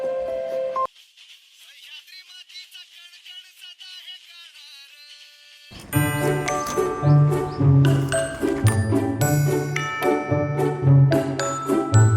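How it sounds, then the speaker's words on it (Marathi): A mobile phone rings with a bright, repeating jingle of electronic tones. It starts softly, then plays louder and busier against background chatter. "कोणाचा फोन आला"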